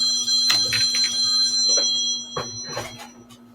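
A phone rings with repeated electronic trilling bursts, fairly loud and close, over a faint steady hum.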